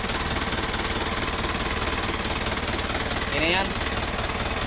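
An Isuzu 4HG1 engine running after a top overhaul and camshaft timing, a steady, close idle with an even mechanical drone, while someone speaks over it.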